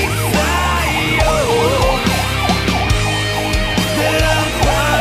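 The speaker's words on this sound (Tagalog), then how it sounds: "Ay, ambulansya." An ambulance siren wails loudly and continuously in rising and falling sweeps, close by over heavy traffic rumble on a drive from Antipolo toward Sta. Lucia.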